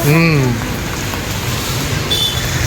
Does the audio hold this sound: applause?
no